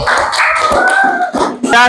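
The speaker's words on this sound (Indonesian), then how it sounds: "tepuk tangan dong" A class in an Indonesian school teaching-practice session gives a short burst of applause, scattered hand claps mixed with children's voices and chatter.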